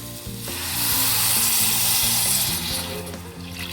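Loud, steady sizzling as water hits a hot pan of sardine curry, a bright hissing crackle with soft stirring clatter underneath, close up and continuous.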